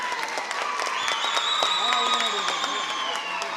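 Audience applause at a Tamil film audio launch for the movie Haraa, a steady wash of clapping throughout with crowd noise and amplified voices or music tones layered over it.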